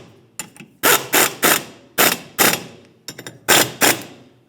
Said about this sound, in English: drive the bolts in, press up against the hub surface, and that will actually pull the drum off